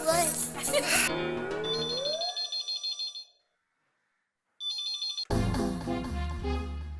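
A telephone rings in a busy household comedy scene, its repeated tones breaking up background music before a brief silence and a burst of loud music.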